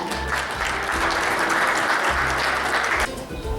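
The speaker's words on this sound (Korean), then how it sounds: "큰 박수로 환영해 주시기 바랍니다" Audience applause at a business awards ceremony in Daejeon, welcoming the mayor as award presenter: steady, dense clapping from a large crowd that holds for about three seconds, then drops off.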